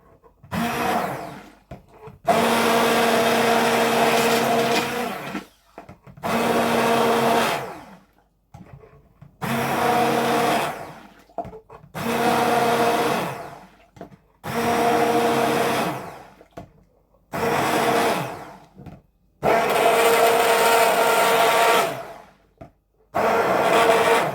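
A countertop blender, a Ninja multicooker unit, pureeing cooked green bean soup in repeated loud bursts of several seconds each, separated by short pauses, whirring close up with no voices.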